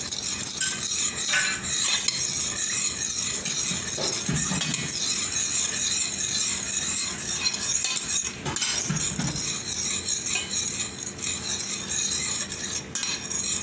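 Gelatin powder stirred into water, a steady scraping swirl of a utensil in a container with occasional light clinks, close and continuous.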